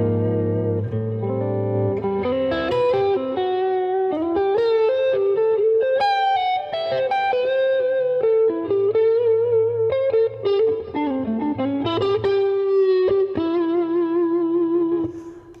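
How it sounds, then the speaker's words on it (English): A Music Man Luke III electric guitar plays a clear, ringing melodic line with sustained notes over steady chords, loud and continuous with no voices. "Acoustically, the guitar just rings."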